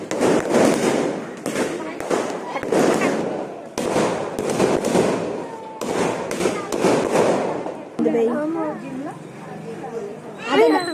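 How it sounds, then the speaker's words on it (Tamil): Sharp crackling bangs of firecrackers pop in quick bursts over several seconds at a Holi festival in Mumbai, mixed with loud background noise, followed by squealing whistles near the end. "வெடி வேற வச்சிருக்கானுங்க"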